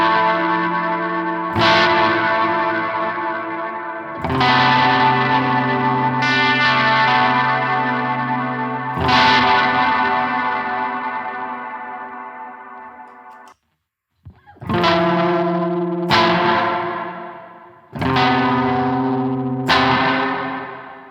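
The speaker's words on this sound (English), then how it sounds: "So this is like my bigger reverb, which I'll play, and then I'll switch over to a small plate that I have saved too." An electric guitar on a shoegaze and post-hardcore pedalboard with an HX Stomp plays slow strummed chords through a big long reverb, then a short plate preset after a brief gap, each chord ringing and washing out.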